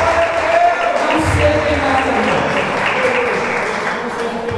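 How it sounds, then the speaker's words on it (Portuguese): A church congregation applauds steadily through the whole stretch, a dense clapping wash heard under a preacher's loud voice. "Você pode dar uma salva de palmas para Ele."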